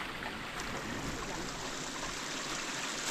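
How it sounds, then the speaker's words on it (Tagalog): A small waterfall spills into a river, a steady, soft rushing of falling water heard alone and evenly throughout at moderate distance. "So yan na lang bumabagsak na tubig ngayon."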